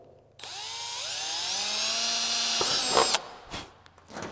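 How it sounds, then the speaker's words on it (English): A power drill spins up and bores steadily for a few seconds through aircraft wing skin for rivet holes, its pitch shifting as the bit cuts through, then stops, followed by a couple of short clunks. "now we're ready to drill the two holes for the rivets"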